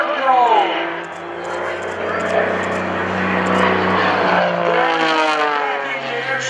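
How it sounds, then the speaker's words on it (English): Gary Ward's aerobatic airplane droning loudly through a torque roll at the 2014 Greenwood Lake Airshow, its engine tone rising and wavering steadily while an announcer talks over it throughout. "Rolling the airplane around and around and around."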